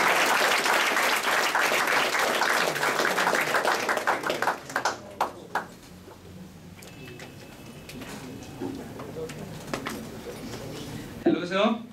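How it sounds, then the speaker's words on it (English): A lecture audience claps for a student, with dense applause over the first few seconds that thins into scattered claps, followed by quieter room noise and a brief voice near the end. "Let us clap the hands for the future Nobel laureate."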